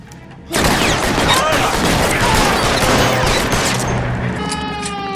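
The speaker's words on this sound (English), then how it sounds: "Fire a warning round." A warning round fired in L.A. Noire during an armed standoff at an electroplating plant: a sharp gunshot crack bursts in loudly, followed by a sustained roar of gunfire and rumbling echoes that slowly thin out.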